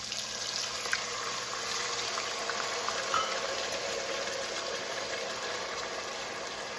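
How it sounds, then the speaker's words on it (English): Steady bubbling, hissing sizzle as water is added to broccoli in a hot pan, continuous and moderately loud, with faint clinks now and then. "my broccoli is ready to have the rest of the ingredients added, so I'll be adding in 3/4 cup of water."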